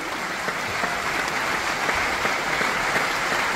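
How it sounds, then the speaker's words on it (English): Sustained audience applause fills the hall at the Un Certain Regard jury presentation during the 2023 Cannes Film Festival, a steady dense wash of many hands clapping with no voices over it. "Plus fort les applaudissements, s'il vous plaît."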